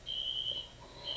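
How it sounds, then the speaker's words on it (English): An indoor fire alarm sounds as a steady high electronic tone, held for about half a second, then returning briefly at the end, with a low room hum beneath and no talk. "you might hear the fire alarm going off"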